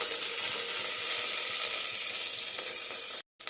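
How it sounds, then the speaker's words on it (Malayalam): Sliced shallots and green chillies sizzle steadily in hot rice bran oil for a carrot curry, a close, even crackle that cuts off abruptly near the end. "ഇനി നമുക്ക് മുറിച്ച് വെച്ച ചെറിയുള്ളി അതിലേക്ക് ചേർത്ത് കൊടുക്കാം കേട്ടോ"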